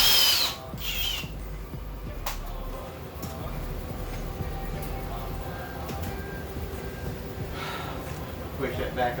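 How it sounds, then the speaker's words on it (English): A power drill with a 3/4 inch hole bit cutting a grommet hole while mounting security cameras, a steady close grinding whine held for several seconds with faint clicks, no talk. "because of the size of the hole, or for the little rubber grommet, we're using a 3/4 inch hole bit"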